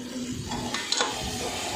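Spices with turmeric powder sautéing in a pan while a spoon stirs them, giving a soft, close sizzle with light scraping that runs steadily for under two seconds.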